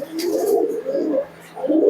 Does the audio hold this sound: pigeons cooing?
yes